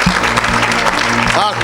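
A church congregation applauds and cheers the Lord during a Sunday worship service, with dense clapping and voices sustained throughout, and someone speaking loudly over the crowd.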